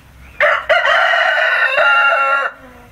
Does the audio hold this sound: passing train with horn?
no